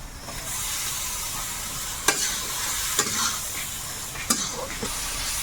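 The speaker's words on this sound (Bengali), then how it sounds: "এবারে ভাজা আলুটা দেবো একদম লাল লাল করে ভাজা" Potatoes fry steadily in spice paste in a hot pan, a constant hiss punctuated by a few sharp scraping clicks of stirring, with no talking.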